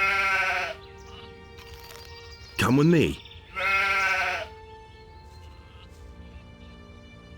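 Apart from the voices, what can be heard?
sheep bleating in the video game Gothic 2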